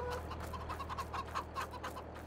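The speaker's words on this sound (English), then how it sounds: "Chickens are doing fine." Chickens in the Farming Simulator 22 video game clucking in a quick run of short, repeated calls over a low steady hum, moderately close and without talk.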